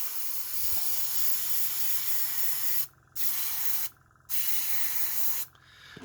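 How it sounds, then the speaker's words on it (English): Airbrush spraying paint onto a Gaslands model car, a steady hiss running nearly continuously with three short pauses where the trigger is released. "that original green paint coming out, that was actually plasmatic bolt. I was working on a previous car, and it was still a little bit in the airbrush there."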